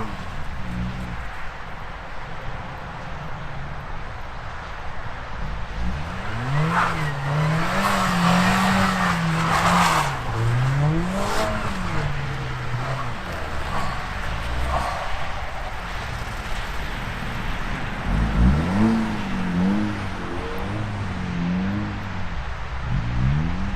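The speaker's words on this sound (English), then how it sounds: "See if we can do a rear wheel drive burnout or a donut." An Acura Integra tries a burnout or donut in a snow storm, with the engine revving up and down in repeated surges and the tires spinning and squealing on the snow. A second rev burst comes near the end.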